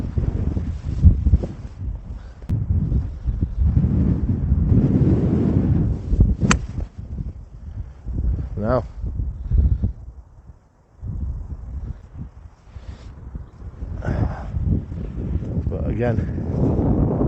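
Strong wind buffets the microphone on a golf course, gusty low rumbling that swells and fades, briefly easing midway, with someone talking over it at times.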